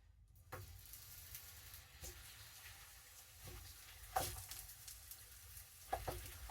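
Sliced zucchini sizzling in hot oil in a pan makes a faint, steady crackle with occasional soft taps and clicks as pieces are placed, heard close and quiet with no voices.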